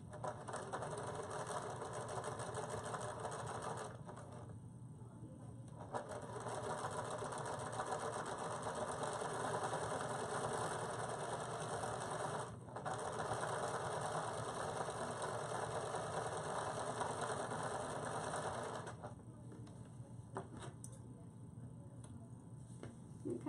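A sewing machine stitches a line through the center of a fabric card holder, its fast steady whir running in long bursts with short pauses between them.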